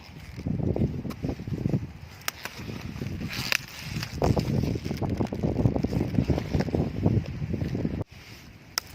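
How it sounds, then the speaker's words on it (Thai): Strong wind blowing outdoors around a garden on a sunny day, a continuous loud rushing buffet on the microphone with rustling and a few sharp knocks. "ลมแรงเหมือนเดิมเลยเนี่ย เห็นแต่ว่าแดดมันออกก็ลมแรงเหมือนเดิม"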